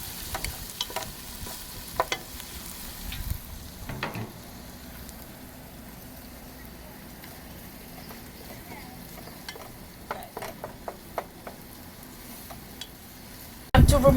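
Tomatoes frying with fish in a pan over a high flame, a soft steady sizzle under scattered sharp clinks and scrapes of stirring, louder taps clustered near the start and end.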